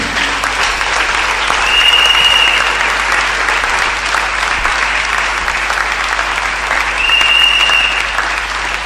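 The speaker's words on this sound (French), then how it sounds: "Acclame Jésus." A church congregation at a Sunday worship service applauding, loud sustained clapping from a large crowd with a couple of swells over several seconds.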